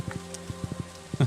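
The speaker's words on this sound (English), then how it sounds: "because it is in fact raining" Rain falls on Green Rain Day in a video game: a brief run of soft, evenly spaced droplet taps over a quiet ambient backdrop, close and gentle.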